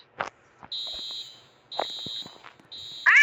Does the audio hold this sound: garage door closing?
no